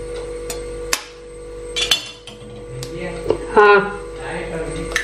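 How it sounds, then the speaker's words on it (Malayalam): An egg is cracked into a mixture, with two sharp taps against the rim of a vessel followed by close clinks and a light clatter of dishes. "ഇനി നമുക്കിതിലേക്ക് ഒരു മുട്ട പൊട്ടിച്ചൊഴിക്കാം."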